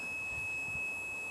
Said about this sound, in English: gear and you've your handbrake on, you get the annoying buzzer.